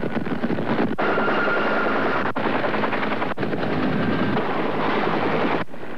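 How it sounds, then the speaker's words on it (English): A Bell H-1 Huey helicopter thumps loudly and continuously overhead during rescues after the Mount St. Helens eruption, its rotor chop mixed with heavy engine roar and a few sharp cuts, with no talk. "The H-1 Huey helicopter was the basic workhorse of many rescues"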